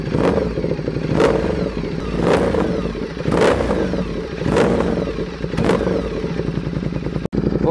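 Ducati XDiavel fitted with an Arrow titanium exhaust idles while warming up, a steady loud rumbling engine note with periodic sharper pulses roughly every second, close to the microphone, with no talk.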